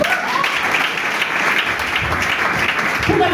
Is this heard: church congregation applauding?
yes